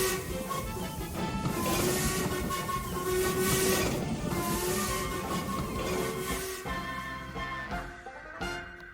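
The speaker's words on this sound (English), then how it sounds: "a booming whistle in the distance. It grew longer and louder, and soon Murdoch drifted through with a heavy goods train." A heavy goods train hauled by a steam engine rolls steadily past, its long booming whistle tones sustained over a dense continuous rumble and clatter, loud and close, the noise thinning toward the end.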